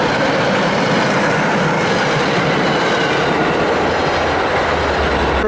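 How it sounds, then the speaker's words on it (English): A Purple line train runs past an abandoned station, its loud, steady broadband rumble and clattering wheels filling the whole stretch, with a brief wheel squeal near the end and no voices. "Oh look, a train."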